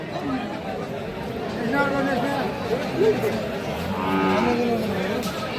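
Sahiwal cattle, cows with calves, moo in long low calls amid a crowd of people chattering nearby at a cattle market.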